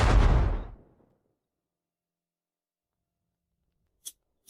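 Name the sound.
mountain explosion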